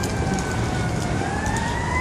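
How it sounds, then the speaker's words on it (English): An ambulance siren wails on a Beverly Hills street, its sweeping tone rising steadily over loud, constant traffic and road noise. "another ambulance."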